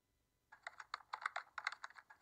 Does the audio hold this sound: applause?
no